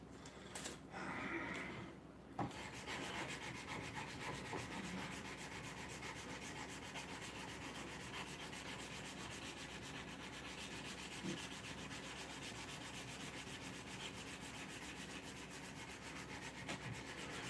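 Hand sanding of wood with Rhino wet sandpaper, a steady continuous rubbing and scraping that runs close and fairly loud for the whole stretch, briefly broken by a pause near the start.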